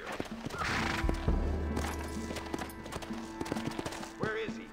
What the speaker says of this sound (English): Oh, I see some horses there.